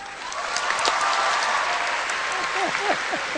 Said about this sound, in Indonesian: sekali lagi dong, tepuk tangan dong.